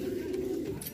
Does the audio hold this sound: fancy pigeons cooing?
yes